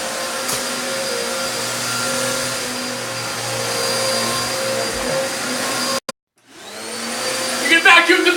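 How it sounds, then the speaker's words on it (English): A Hoover Elite Deluxe upright vacuum cleaner runs with a steady, loud motor drone and whine, cuts off abruptly for a moment, then powers back up with a rising roar and some rattling. "You can vacuum your living room!"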